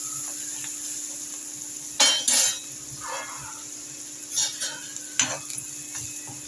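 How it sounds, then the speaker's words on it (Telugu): Green chillies fry in oil for an egg tomato curry: a soft steady sizzle underlies a few sharp clinks and scrapes of a utensil against the pan, heard up close with no talking. "నూనెలో బాగా పచ్చిమిర్చి వేగాలి."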